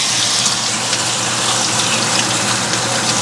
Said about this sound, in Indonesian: Selain minyak ada butter sedikit. Saatnya untuk digoreng.